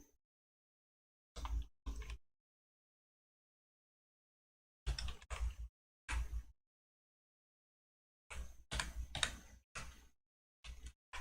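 Bursts of computer keyboard typing: short clusters of quick key taps separated by silent pauses, close and fairly quiet, with no talking.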